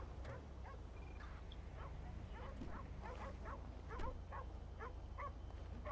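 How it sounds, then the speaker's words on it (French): Two dogs in the video game GTA V, at night: repeated sharp barks and yips in an irregular series over a constant low background hum, moderately distant and fairly faint. "Apparemment, c'est les deux chiens, je pense."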